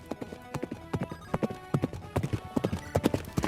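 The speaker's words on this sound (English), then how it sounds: "Yeah, I hear a horse galloping." Horse galloping in the video game Fire Emblem Sacred Stones, a rapid, steady run of hoofbeats drumming loudly and continuously throughout.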